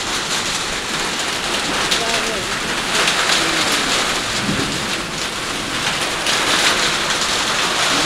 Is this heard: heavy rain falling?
yes